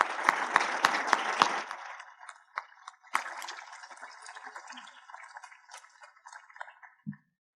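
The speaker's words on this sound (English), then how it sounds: "Give her a round of applause." Audience applause at an annual meeting, strongest in the first two seconds, then thinning into scattered claps that fade out, with a short final thump at the end.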